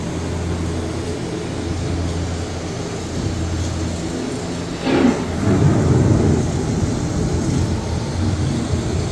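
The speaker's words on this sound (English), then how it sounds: "The approaching storm may seem violent and destructive to us, but to nature, it's a new beginning in the cycle of life." Thunder from the storm effect on EPCOT's Living with the Land boat ride booms out after a steady rumble of rain and ride ambience, one loud crack followed by rolling low rumbling.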